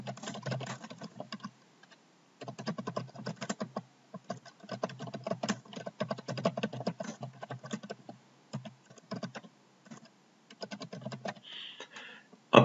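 Typing on a computer keyboard into a Google Docs document, quiet close key clicks in irregular bursts separated by short pauses, with no talk.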